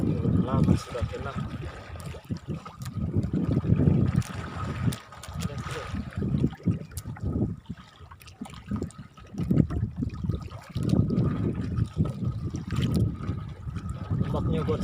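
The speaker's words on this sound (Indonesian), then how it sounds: "Ombaknya kuat sekali kawan-kawan." Strong sea waves wash and churn around a small fishing boat at a rompong fishing spot, a continuous rough watery rumble and splashing close by, without speech.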